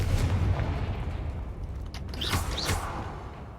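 A Confringo fire-blast spell cast in Hogwarts Legacy: a whooshing burst with a booming crackle, followed by a couple of bright swishes near the end, heard alone and fairly close.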